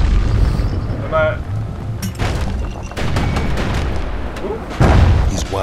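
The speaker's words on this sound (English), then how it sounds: "I'll take a hand grenade." A hand grenade blast in the video game Bastion, heard as a few dull booming bursts amid busy game noise, with a narrator's voice speaking over parts of it.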